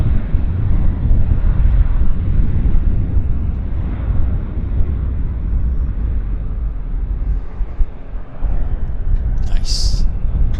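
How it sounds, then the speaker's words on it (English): A Q400 turboprop airliner at Vancouver Airport, a loud, steady low engine roar and rumble running throughout with wind buffeting, and a brief higher whistle near the end. "It's Q400 City today, guys. Q400 City."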